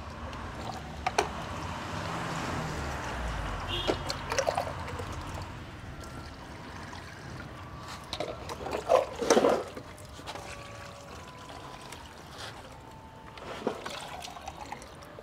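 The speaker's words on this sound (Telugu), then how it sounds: "ఇట్లా నీళ్ళు అట్లా బాస్తా" Water pours from a container onto paper laid over soil in a rooftop terrace garden, giving soft splashing and trickling that swells in a few brief bursts, faint and close, with no talk.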